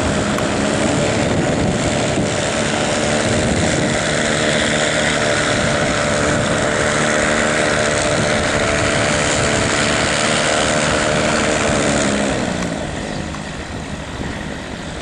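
Three propeller aircraft pass overhead at an airshow in Venlo, making a loud, steady, droning engine roar that lasts the whole stretch and eases slightly at the end.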